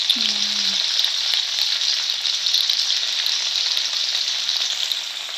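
Paneer fries in hot oil in a kadai, giving a loud, steady, unbroken sizzle with no voices over it.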